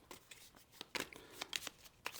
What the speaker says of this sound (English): they're going to take the reserve cards, shuffling those as well